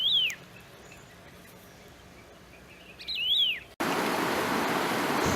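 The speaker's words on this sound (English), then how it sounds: "The Bhutan laughing thrush, singing to its glory amidst preening and cleaning its feathers." A Bhutan laughing thrush sings clear, whistled phrases against a quiet background, with a louder rushing noise taking over near the end.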